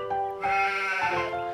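A cartoon sheep bleats once, close and loud, in a wavering nasal cry of about a second with nothing else heard.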